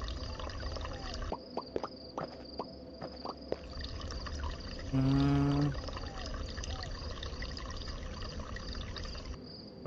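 Liquid trickles and drips steadily for about ten seconds in a video game, with scattered small splashes and a short electronic tone partway through.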